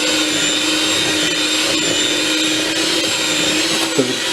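An electric hand mixer whirs steadily through chocolate chip cookie dough, a loud continuous motor drone with a slight pitch wobble and a brief knock near the end, no voices.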